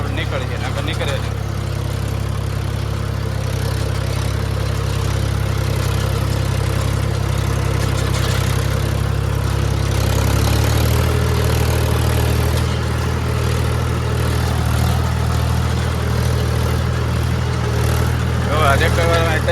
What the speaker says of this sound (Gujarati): આ ટ્રેક્ટર વાળા તૈરો પછી જ નીકળે